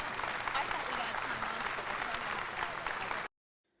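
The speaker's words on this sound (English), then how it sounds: "let's have a round of applause for your fabulous presence here today" An audience bursts into dense, sustained applause at a conference panel session, steady and fairly loud with a murmur of voices mixed in, then cuts off abruptly to silence.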